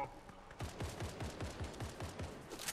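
A burst of rapid gunfire in Fortnite, about ten evenly spaced shots in one quick string, a little distant and fairly faint, heard alone with no voices.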